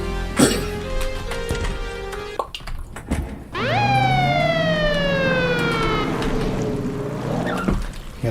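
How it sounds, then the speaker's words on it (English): Police car siren in a video game, a loud wailing tone sweeping up and down continuously over game music, with no talking. "the police car is a lot harder to avoid from that exit"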